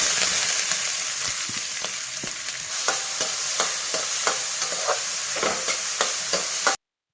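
Chopped snake gourd sizzles in oil as a spoon stirs it, with irregular scraping knocks over a steady hiss, close and loud with no voices, ending abruptly.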